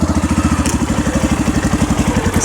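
A motorcycle engine chugs in a fast, even, pulsing rhythm while riding on a hill road, loud and close throughout with no speech.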